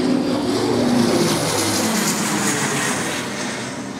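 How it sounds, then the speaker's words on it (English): An airplane coming in to land, a loud broad roar of jet engine noise that holds steady and then slowly eases off over a few seconds, with no talk. "here comes a plane landing now"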